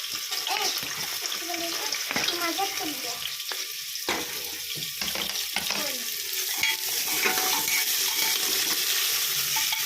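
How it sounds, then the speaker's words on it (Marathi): Onion frying in hot oil for masala rice, a continuous sizzle with stirring and a few utensil knocks, partly under a voice. "मस्त असा कांदा मी भाजून घेते इथं"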